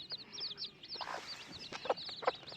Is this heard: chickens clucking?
yes